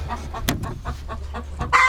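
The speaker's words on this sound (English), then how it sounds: "Oh, yep, there's eggs in here. And there's a hen." A hen sitting in a nest box gives a run of close, rhythmic low clucks and short grunting calls, ending in a slightly louder squawk.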